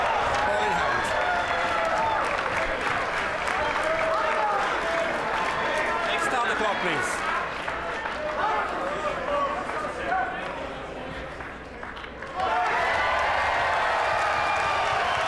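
A crowd at a Mosconi Cup pool match bursts into loud, sustained applause and cheering that fills the hall, dips briefly, then swells again while a commentator speaks over it.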